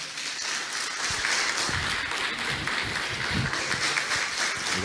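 A church congregation applauds at the close of a missionary sermon, with loud, sustained, dense clapping throughout and scattered louder claps near the front, with no speech over it.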